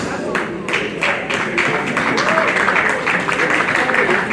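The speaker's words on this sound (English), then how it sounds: "Please, a round of applause for the address by the chairman" Audience applause at an awards event, a dense steady wash of many hands clapping, moderately loud and sustained, with crowd murmur and speech-like sounds mixed in.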